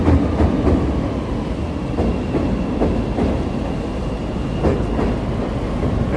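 A Chicago L Pink Line elevated train passes over the Loop near Wabash, making a loud, steady rumbling roar with rhythmic wheel clatter throughout, heard from close by.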